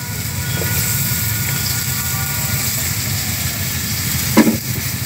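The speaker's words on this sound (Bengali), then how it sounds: "আলু ভাজার মধ্যে এবার আমি দিয়ে দিচ্ছি কুচানো পেঁয়াজ।" Chopped onion frying with potatoes in a pan, a continuous close sizzle with stirring scrapes and a brief clunk of a utensil near the end, no talking.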